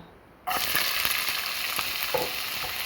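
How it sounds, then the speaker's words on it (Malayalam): Chopped onion dropped into hot coconut oil in a heated pan for a chicken bone roast bursts into a sudden loud sizzle after a quiet start, then keeps crackling steadily with occasional stirring scrapes. "പാൻ ചൂടായപ്പോൾ അതിലേക്ക് എണ്ണ ഒഴിച്ചു കൊടുത്ത് വെളിച്ചെണ്ണ അതിലേക്ക് നമുക്ക് അരിഞ്ഞ് വെച്ച് സവാള ചേർക്കാം"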